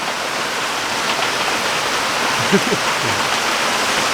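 Steady rain hisses continuously over an outdoor spot, a dense even wash with a faint brief voice murmuring partway through.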